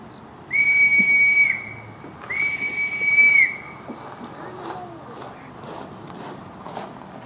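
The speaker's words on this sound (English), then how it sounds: "let me blow the whistle again just to warn everybody else that we're getting ready to actually fire it off" Two loud, sustained whistle blasts sound as a warning before a firing in Yorktown, Virginia, each lasting about a second, followed by faint footsteps and background movement.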